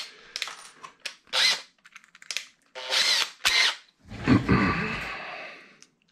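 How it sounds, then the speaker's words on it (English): A power drill with a 4 mm bit whirs in several short bursts, then runs in one longer, louder stretch as it bores a hole for a satellite antenna feed assembly, close by. "Hold it down and drill it in."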